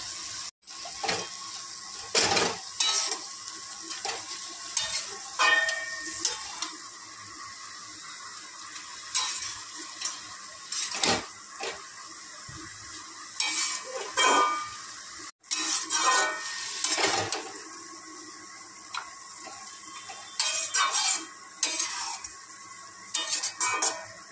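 Notey greens frying in a pan with fennel seeds, salt and turmeric, a soft sizzle beneath repeated scraping and clinking strokes of a spatula, close by, with no one speaking.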